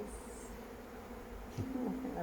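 Honey bees buzz around a hive at a bee school in Scotland, a soft, steady hum close by with a brief louder pass as one insect flies near.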